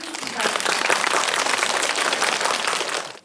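Audience applause at a Grandparents' Day celebration, steady clapping from a crowd swelling quickly and sustained for a few seconds before fading out.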